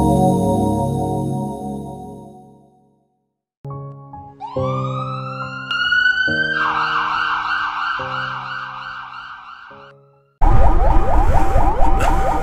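An ambulance siren wails loud and close on the road, rising and falling in sweeping bursts with short gaps, then switches to a harsher, faster blaring pattern at the end.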